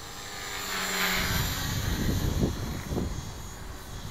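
Steady whirring drone of an LH 450 flybarless RC helicopter hovering nearby in governor mode, with slight rises and dips in pitch.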